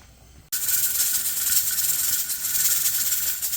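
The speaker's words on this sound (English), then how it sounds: "My pressure canner is up to speed. There is the noise." Loud, steady steam hissing from a pressure canner at 10 pounds of pressure while canning crushed tomatoes starts abruptly and continues, with a faint rapid rattling texture of the jiggling weight running through it.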